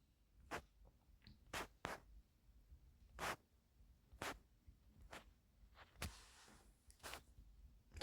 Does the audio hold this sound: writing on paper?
yes